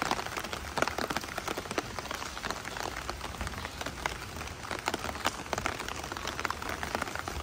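Steady rain falls on surfaces in the German city of Schwerin, a dense continuous patter of close raindrops with no voices.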